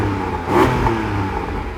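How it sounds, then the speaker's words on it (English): A Porsche Boxster Spyder's naturally aspirated flat-six engine drones steadily nearby, swelling briefly in a short rev before settling back to a low, throaty hum. "Being a flat 6 naturally aspirated engine, it definitely sounds better than the flat 4 turbos"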